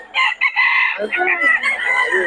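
A rooster crows close by, one loud drawn-out cock-a-doodle-doo that opens with short clucking notes and then rises and falls across about two seconds, heard on its own.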